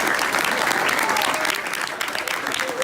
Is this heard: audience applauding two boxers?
yes